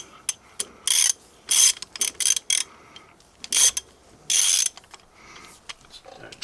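A ratchet clicks in several quick bursts while loosening a 14mm hex plug on the side of a 2018 Can-Am Outlander 850 XMR engine case, with short separated runs of crisp pawl ticks and brief pauses between.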